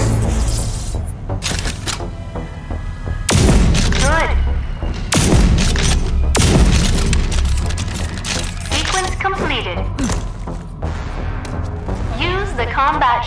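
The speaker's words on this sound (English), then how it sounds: "Use the combat shotgun's overdrive against the simulated enemies" Combat shotgun firing single solid slugs in the shooter game Rage 2, several loud heavy booms in close succession amid game effects, with talk over parts of the action.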